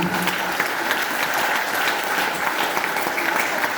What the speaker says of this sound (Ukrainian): Зустрічайте щирими оплесками Григоренка Василя Миколаєвича.